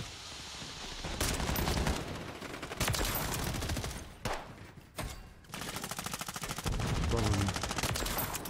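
Rapid gunfire rattles in a shooter video game, with loud sustained bursts of automatic fire broken by brief gaps, close and dominant throughout.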